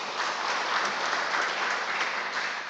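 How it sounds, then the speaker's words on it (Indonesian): A church congregation in Kupang applauds two visiting congregations during a service, producing a dense, steady wash of many hands clapping together at moderate level, sustained throughout with no pauses or voices. "Kita tepuk tangan untuk dua jemaat ini."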